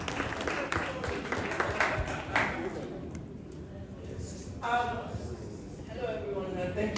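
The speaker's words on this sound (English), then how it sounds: "Ladies and gentlemen, please a round of applause for the convener" An audience claps for the convener at a film festival panel, a burst of applause under and between a speaker's voice at a moderate distance, fading after a few seconds as talk continues.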